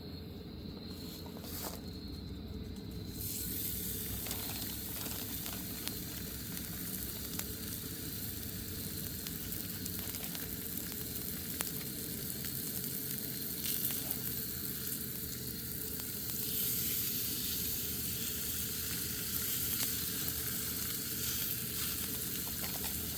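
Big homemade burger patties sizzle in a pan at an overnight campsite: a continuous, close, crackling fry hiss that holds steady throughout, with no talk.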